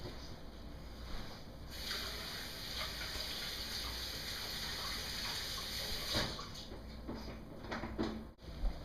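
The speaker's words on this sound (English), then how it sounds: "I am going to wash my hands for sanitation purposes" Running tap water pours steadily as hands are washed in a kitchen, a continuous hissing gush that shifts and breaks near the end with small splashes and knocks, fairly quiet and close.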